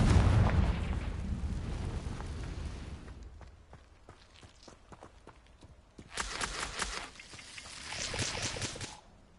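In a video game, a Confringo fire spell explodes with a heavy, rumbling blast that decays over a few seconds. Scattered knocks follow, then a second burst of crackling noise.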